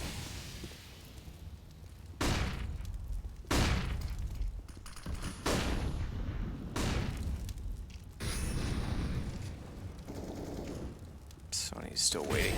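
Gunfire in a professional Counter-Strike match on the Overpass map, with loud bursts of automatic fire and single shots in rough clusters, under busy play and excited commentary.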